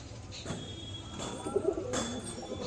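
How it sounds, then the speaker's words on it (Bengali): Kalanka pigeons in a loft coo softly, a few low murmuring calls at moderate distance over a quiet background, with faint rustling and no voices. "কালাঙ্কা পায়রা।"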